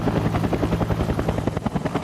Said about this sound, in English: the choppers are heading in